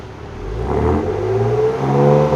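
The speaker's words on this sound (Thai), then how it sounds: "นี่เร่งเครื่องนะครับ" A Ford Next-Gen Ranger Raptor pickup engine revs gently in quiet mode, a muted, low hum that swells slightly and climbs in pitch, fairly quiet and close, with no voices.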